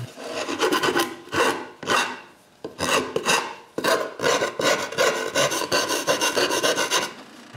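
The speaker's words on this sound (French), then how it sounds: "il ne reste plus qu'à enlever les ailettes et râper un peu" A hand rasp files wood around a freshly cut hole in a Christmas decoration stand, its dense scraping strokes repeating close up in quick rhythmic bursts with brief pauses.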